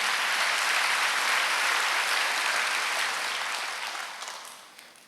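A church congregation at a Wednesday worship service breaks into sustained applause, a thick wash of many hands clapping at once that holds steady, then gradually thins and fades out with no talk over it.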